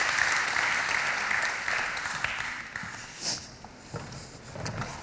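Applause rises from the audience at a Blog Forum Gdańsk 2014 panel event, steady at first and then thinning out, with a few louder claps near the end.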